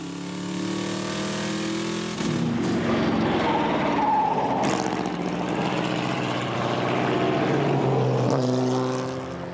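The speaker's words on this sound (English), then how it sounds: "This time, we're riding along in a 1950 Allard J2 with the German duo of Uten and Tang." A 1950 Allard J2 race car at the Le Mans Classic, heard from on board as its engine roars loud and continuous, with a shift in pitch partway through and a steady throbbing drone.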